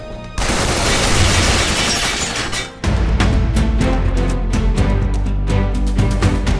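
Dense third-person shooter gunfire from the sci-fi game Binary Domain, with sustained rapid bursts, a brief drop, then a resumed barrage of sharp repeated shots, loud and close with no talking.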